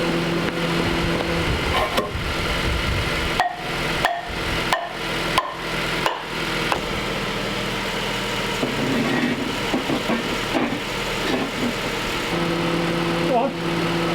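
A Honda Civic Type R FN2 engine revving and idling at close range, with a run of sharp knocks early on and a steady mid-range drone, under intermittent talk.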